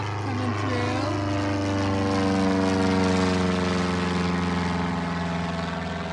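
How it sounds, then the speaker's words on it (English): A light propeller aircraft passes over coastal sand dunes with a steady drone. Its engine tone holds loud and continuous throughout, and a short rising whistle-like sound is heard near the start. "Just a few seconds later, we have a light aircraft coming through."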